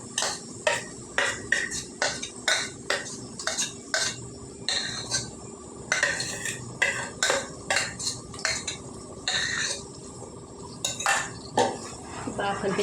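A metal spoon stirs tomato gravy curry in a pan, making a steady series of close scraping clinks against the metal in an uneven rhythm, with no talking over it.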